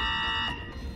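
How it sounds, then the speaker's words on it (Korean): Warning buzzer on a PCB inspection system: a single loud, harsh electronic buzz lasting about half a second, then cutting off into quieter room sound. "저항 조절 검사가 누락되었거나 LED 체크가 누락될 경우에는 아까 들으신 부저음이 울리고"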